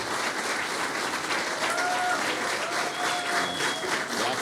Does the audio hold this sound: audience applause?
yes